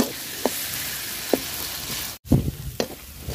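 Spice paste frying in a pan over browned onions, a steady low sizzle punctuated by occasional spoon taps and stirring scrapes, with a brief cut partway through and no voices.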